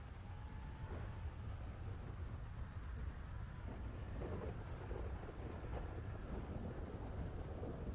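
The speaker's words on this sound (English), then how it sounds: "That thunder is loud." Thunder rolls through a rainy storm, a deep, sustained rumble beneath steady rain hiss, with a few sharper cracks and swells over eight seconds and no talking.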